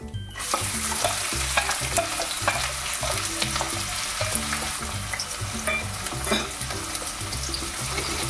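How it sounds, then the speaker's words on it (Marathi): A large sliced onion fries in hot oil with crackling mustard seeds and cumin, a steady loud sizzle with stirring clatter running throughout and no talk. "हा कांदा छान असा परतून घे।"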